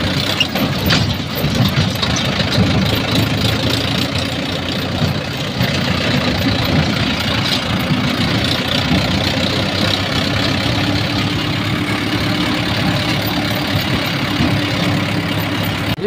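A tractor engine runs at a steady idle close by. It gives a loud, continuous low rumble with a slight knocking texture and no voices.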